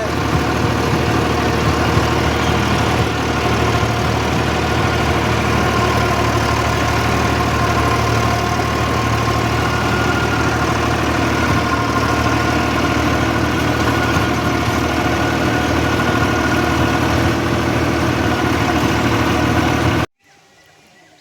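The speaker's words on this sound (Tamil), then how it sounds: "ஆர்பியும் வந்து டவுன் ஆகி போச்சு பதினாறு ஆர்பிஎத்தில் ஓடுது" Farm vehicle engine idling at low RPM, in a Tamil village setting, a loud steady close rumble that runs unchanged for about twenty seconds, then cuts off abruptly.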